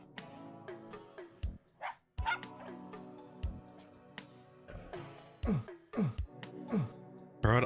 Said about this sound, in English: I can't pat the dog.